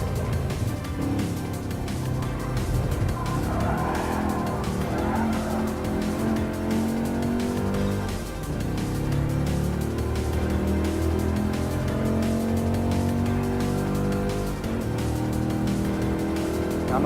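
An Abarth 500 racing in Gran Turismo Sport: a continuous engine drone shifting pitch through the gears, with tire squeal in the corners, loud and steady throughout.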